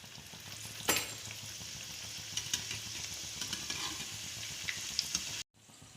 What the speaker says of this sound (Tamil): எண்ணெய் சூடாயிட்டு என்ன நம்ம இப்போ இந்த இதில் போட்டு பொறிச்சு எடுத்துக்கலாம்